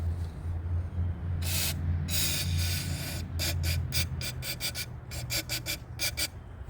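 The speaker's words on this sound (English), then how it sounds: "we're just gonna spray this in here" Short bursts of aerosol spray as B12 cleaner is squirted into a seized Champion pump engine, a few long hisses then a rapid series of quick close puffs.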